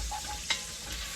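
Vegetables hitting a hot, buttered frying pan with a steady broadband sizzle, one brief sharper spatter in the middle, close and fairly loud, no talking.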